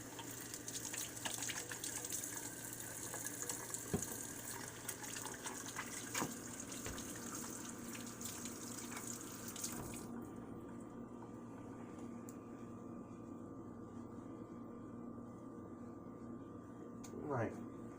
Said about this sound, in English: First thing I'm going to do is wash my hands, of course.